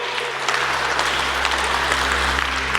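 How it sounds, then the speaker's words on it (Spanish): Church congregation applauding after a prayer, a dense, continuous wash of clapping that holds steady over a low hum from the sound system. "Un aplauso al Señor."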